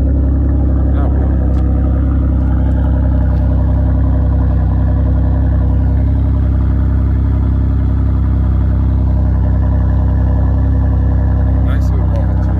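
A Chevrolet Monte Carlo idles loudly through its exhaust, a deep, steady, close rumble that fills the whole stretch, with faint talking barely present beneath it.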